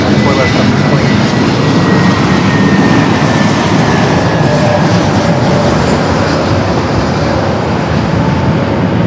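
A Delta airliner takes off at Los Angeles International Airport, its loud, steady jet roar filling the whole stretch with a faint whine drifting above, while air traffic radio chatter plays over it.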